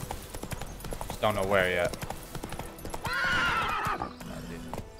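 Roach, the horse in The Witcher 3, gives two loud whinnies near a cliff edge, the first a wavering neigh and the second a longer startled cry, over faint hoof clopping while someone talks.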